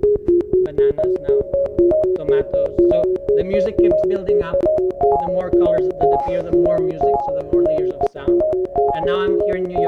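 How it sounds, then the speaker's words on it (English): Sonochromatic tones generated from the colors appearing in a film form a steady electronic melody of repeating pitched beeps, with faint voices in the background. "the sound of the film is based on the colors that appear"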